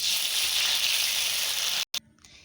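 Hot oil sizzles steadily and loudly, then cuts off abruptly and drops to a faint hiss, as ground mustard soaked in water goes into the pan with chopped chilies.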